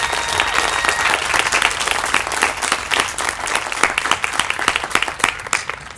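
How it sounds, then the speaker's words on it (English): An outdoor crowd at the Whiz Bang Days ambassador coronation gives a round of applause, a full, steady burst of many clapping hands with some sharp nearby claps, sustained throughout. "And if we could all give them a round of applause right now."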